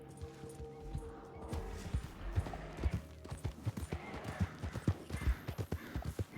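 A horse gallops fast in a video game while fleeing a grizzly bear, its hooves pounding in a quick, uneven rhythm close by, with a whinny near the start over a low rumbling bed.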